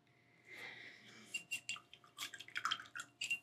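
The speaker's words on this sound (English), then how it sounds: "I'm gonna wash that brush." A paintbrush used for acrylic ornament painting is swished and tapped in a water cup, soft close sloshing giving way to a series of light clinks and splashy taps, quiet and without speech.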